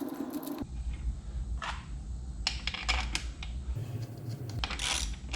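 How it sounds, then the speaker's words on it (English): Small screws being handled and set in while a brake caliper is mounted on a KX 450F supermoto, a run of close metallic clicks, rattles and scrapes at a workbench with no talk. "Pop some screws in."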